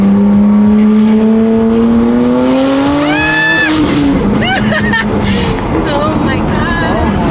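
A BMW M3 engine revs hard and rises in pitch while drifting, loud and close, with tire squeal and skidding noise and voices reacting over it.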